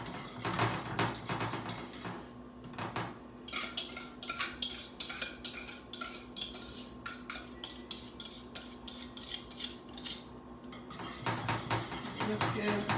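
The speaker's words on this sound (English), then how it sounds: "Take it, and as we're going, we're going to be whisking." A whisk scrapes and clatters steadily inside a pot or bowl, mixing cornstarch and cocoa powder for chocolate pudding, with near, continuous metallic stirring and a low kitchen hum underneath.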